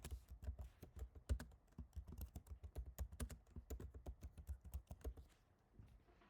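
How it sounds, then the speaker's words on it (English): Rapid typing on a computer keyboard, with a fast, irregular string of close, crisp key clicks that runs for about five seconds and then stops, with no voices. "So type that."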